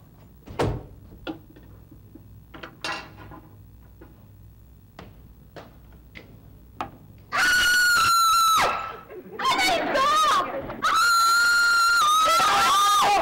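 A woman lets out a loud, sustained, shrill scream with a few breaks, preceded by scattered knocks and thumps indoors.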